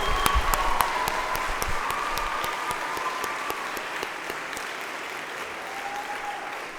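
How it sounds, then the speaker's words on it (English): Commencement crowd at a Union College winter graduation ceremony gives the graduating class a sustained round of applause, broad and steady, with a few sharper individual claps standing out near the start before gradually thinning. "let's give our entire class another round of"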